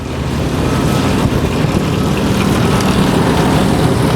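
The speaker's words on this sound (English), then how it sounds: "And we've got an airplane." Propeller airplane passing low overhead near trench work for a water recycling facility in Playa del Rey, Los Angeles, a steady loud drone filling the whole stretch without talk.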